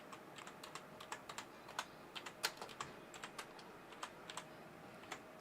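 Typing on a computer keyboard, a quick irregular run of soft key clicks with one sharper tap, close and fairly quiet, with no talk.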